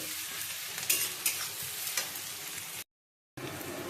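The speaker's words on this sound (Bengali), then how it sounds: "পেঁয়াজটা লাল লাল ভাজা হয়ে এসেছে।" Onions frying in a pan with steady hissing sizzle and repeated scraping stirs, close and continuous, broken by a short silent gap near the end.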